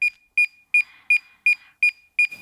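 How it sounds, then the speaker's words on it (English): A DJI Mini 2 drone controller in pairing mode gives a regular series of seven short, bright electronic beeps, close and clear, with no talking over them. "Oh, it beeped at me."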